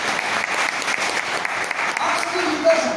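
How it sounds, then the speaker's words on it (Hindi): Audience at a business session in Thailand breaks into steady, dense applause, many hands clapping together at close range for the full few seconds. "एक बार तो जोरदार ताली आप सभी को।"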